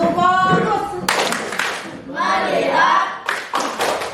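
Group clap routine in a school coaching session: chanted voices alternate with short bursts of quick, sharp clapping from many hands, the claps arriving in tight rhythmic clusters between the spoken phrases.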